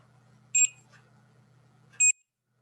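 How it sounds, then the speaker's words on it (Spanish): A multimeter gives two short, sharp beeps about one and a half seconds apart while a faulty transistor is tested, loud and close over a faint electrical hum. "como si ustedes están escuchando, está dando pitidos"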